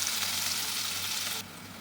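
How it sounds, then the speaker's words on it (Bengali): Chopped onion and chilli frying in oil, a dense, loud, continuous sizzle close by that drops a little in level near the end. "দিয়ে এবার পেঁয়াজটাকে ভালো করে ভেজে নেব।"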